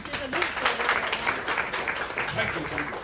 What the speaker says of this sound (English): Let's make a big applause to the leader.